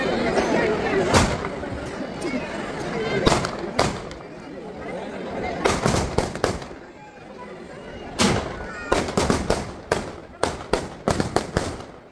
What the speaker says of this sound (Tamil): இப்ப எரியிற பட்டாசு வெடிக்கும்.